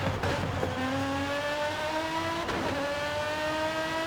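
An Italian exotic car in a racing video game revs and accelerates through the gears, rising engine pitch twice dropping at shifts, loud and close without speech.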